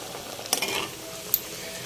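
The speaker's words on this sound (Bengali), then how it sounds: "এখানে হচ্ছে করলা ভাজা করে নিচ্ছি" Bitter gourd fries in a pan in a home kitchen with a soft steady sizzle, broken by a couple of sharp utensil scrapes and clinks against the pan, close and unaccompanied by talk.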